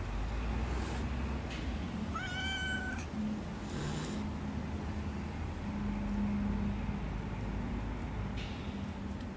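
A very old stray cat beneath a trailer gives a couple of clear meows, one drawn out and wavering, heard close but fairly quiet over a low, steady outdoor hum.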